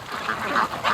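Muscovy ducks at a free-range duck farm give a brief burst of rough, breathy calls, a few overlapping bursts in one second, moderately near with no talking.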